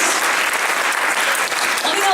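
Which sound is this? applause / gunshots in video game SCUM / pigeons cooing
applause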